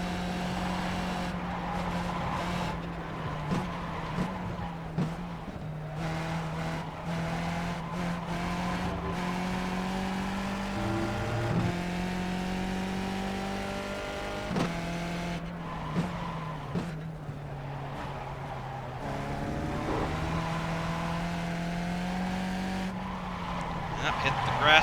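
A race car is driven in the iRacing simulator, its engine note rising and falling through repeated gear shifts, with tires squealing, all fairly quiet under someone speaking throughout.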